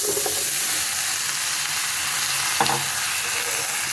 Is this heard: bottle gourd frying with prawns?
yes